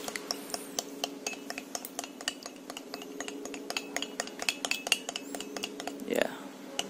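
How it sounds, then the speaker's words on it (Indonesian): A fork or whisk beats raw salted eggs in a bowl for a petai omelette, a fast, steady rapid clatter of utensil against the dish that runs close and continuous from start to finish. "Nah, jadi kocek dulu nih telurnya."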